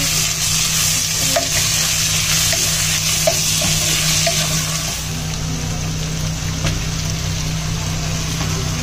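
Onions and green chillies frying in a pan for vermicelli biryani, a steady close sizzle running throughout with occasional stirring clinks, no voices over it.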